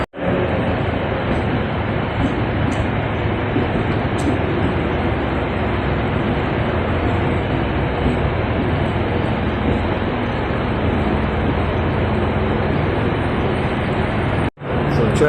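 A loud, steady rumble of a train at Manchester Piccadilly station fills the whole stretch without a break, ending with a brief cut near the close.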